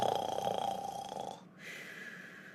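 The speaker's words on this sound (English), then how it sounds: "I could literally hear him, snoring out loud." Cartoon character Caillou snores loudly, a single drawn-out rasping snore that breaks off and fades into quiet.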